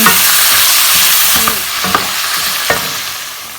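Chopped tomatoes and onion are stir-fried for a Thai chicken yellow curry, making a loud, close sizzle that fades slightly while a spatula scrapes and knocks against the pan a few times.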